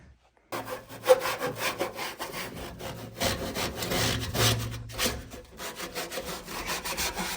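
Abrasive scratching at the seams of a fiberglass/metal car cowl panel on an F-body, a close, loud, irregular rasping rub with rhythmic back-and-forth strokes starting abruptly after a brief silence.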